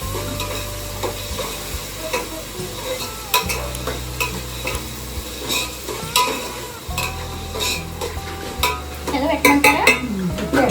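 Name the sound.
stirring chicken curry with ginger in a sizzling pot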